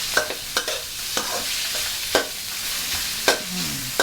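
Minced pork and bean sprouts stir-fried in a pan, with a spatula scraping and clacking at an irregular rhythm over a soft steady sizzle, close and fairly loud.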